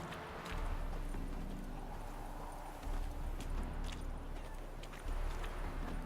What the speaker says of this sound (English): Is that a horse in the distance?